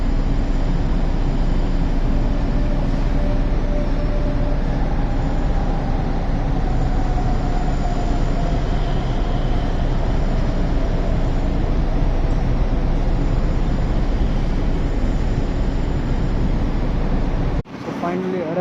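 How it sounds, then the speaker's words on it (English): A train ride heading into Hamburg Hauptbahnhof, heard as a steady, loud rumble of a moving carriage that runs unbroken for most of its length before a sudden dip and thump at the end. "Diese Zugfahrt"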